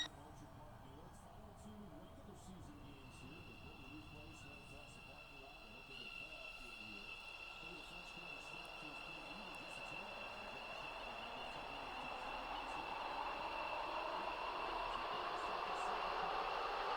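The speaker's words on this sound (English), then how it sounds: "Train now approaching Angel Pass. Platform 2." A metro train in the Roblox game Stepford County Railway draws into a station, a low rumbling hum with steady tonal whine building gradually louder over many seconds as it nears.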